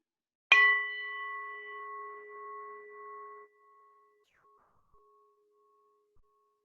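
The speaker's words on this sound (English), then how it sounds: "I'll invite the bowl to get us started." A meditation singing bowl is struck once, ringing with a clear sustained tone that slowly fades over about three seconds, followed by near silence and a couple of faint small knocks.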